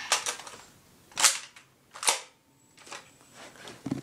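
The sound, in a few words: Nerf toy pistol being test-fired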